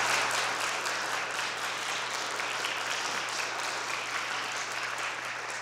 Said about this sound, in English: Can we just have one big round of applause for all the musicians?